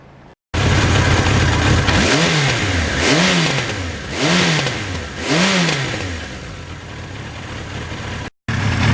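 A motorcycle on a test ride revs loudly four times in a steady rhythm, each rise and fall of the engine close and clear, with no talking.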